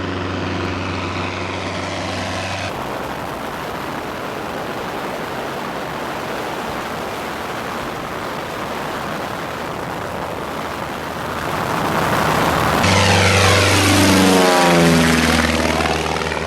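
Piper Cub light aircraft flying along a clear river near Fernie in the mountains, its propeller engine a loud, steady drone that swells louder near the end, with no voices.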